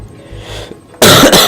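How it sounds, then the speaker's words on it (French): A single loud, harsh cough bursts in after a second of quiet room noise, close to the microphone. "Excusez-moi pour la toux, mais je suis encore un petit peu malade en fait."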